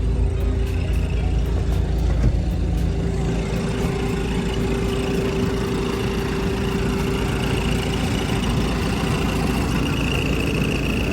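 Sampo or Dronninborg combine harvester with hydrostatic drive, its engine running in a steady low rumble with a constant hum and vibration, close and loud throughout with no talking.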